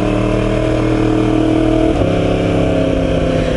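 A de-catted Yamaha R1 sport bike's exhaust is heard close and loud, a steady throaty engine drone with a brief pitch shift midway as the revs change, with no voices.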